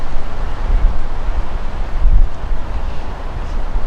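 Strong gusty wind during a dust storm in Boise, Idaho, a loud continuous roar buffeting the microphone with surging gusts and no speech.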